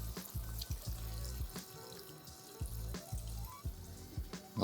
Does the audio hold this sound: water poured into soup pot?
yes